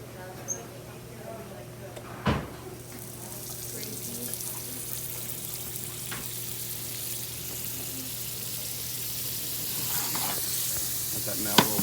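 A tablespoon of butter goes into a hot skillet and begins a steady, gentle sizzle that builds slightly over time, with a few light clicks and knocks of a pan or utensil on top.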